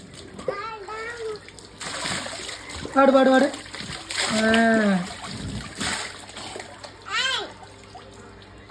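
Intermittent water splashes and trickles as a child plays in a bath, mixed with adults and children talking and singing nearby.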